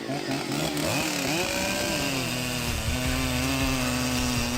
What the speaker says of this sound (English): The sharp blade slices effortlessly through the thick trunk, making smooth and clean cuts.